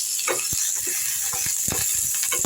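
Green chillies frying in a pan for black urad dal chutney, a steady close sizzling hiss broken by clicking, scraping stirs across the whole stretch.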